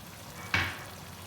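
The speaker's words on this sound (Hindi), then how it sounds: "अब फ्लेम हाई करके करते हैं इसकी भुनाई।" Potatoes and cauliflower frying over a high flame, with a continuous soft sizzle and one sudden louder burst of spatter halfway through that fades gradually.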